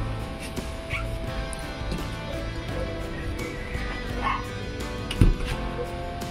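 A dog barks and whimpers amid steady background noise, with a sharper yelp near the end.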